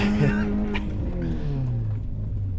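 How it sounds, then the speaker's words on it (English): A Subaru rally car climbing a hill at a winter rallycross event gives a loud, close engine note, strained and buzzing high before the revs sag and the pitch slides down over the final seconds. "I hope you guys like Subaru rev limiter"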